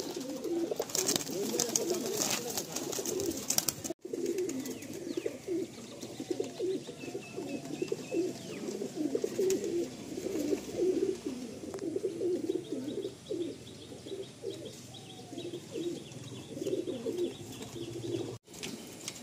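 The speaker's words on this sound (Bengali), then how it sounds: "লাল সিরা, ফুল সিরা, মুন্ডি সাদা, সাদা মালবাই, সব রকম পায়রাই এখানে রয়েছে" A loft full of pigeons of many fancy breeds, including red and flowered sira, white-headed and white malbai, coos in a dense, continuous chorus close by, with occasional soft chirps and no one speaking.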